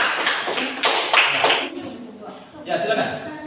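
Classroom applause, a burst of hand clapping from a group of students with a light chuckle, fading out then a few scattered claps.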